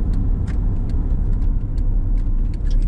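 A car drives slowly along a road into a forest before parking, its engine and tire rumble steady and close, with faint ticks and clicks over the low drone.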